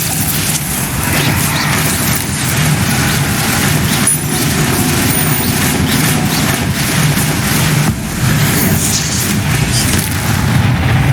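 Bombarda explosion spell cast in Hogwarts Legacy, loud booming blasts over a dense, continuous rumble of game combat noise that runs the whole stretch without pause; no one talks.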